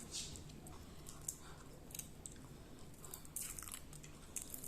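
Someone chews raw garlic up close, with crisp, irregular crunching bites repeating softly against a quiet background.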